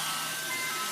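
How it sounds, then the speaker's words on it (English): An ice cream truck passing on a rainy day, its jingle a faint, steady tone over the wash of rain, brief and alone. "Random ice cream truck."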